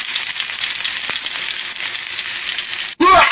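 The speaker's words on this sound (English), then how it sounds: "sizzling?" Steady, loud sizzling of eggs and cheese frying on a hot griddle, continuous crackle with a brief scrape near the end.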